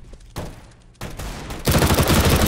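Counter-Strike match gunfire: a rifle spray erupts in rapid sustained bursts that grow louder and denser toward the end, dense and close with no talking.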